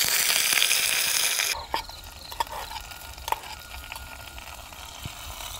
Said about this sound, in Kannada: ಒಗ್ಗರಣೆಗೆ ಎಣ್ಣೆ, ಸಾಸಿವೆ, ಹಾಗೆಯೇ ಬ್ಯಾಡಗಿ ಮೆಣಸು, ಕರಿಬೇವು,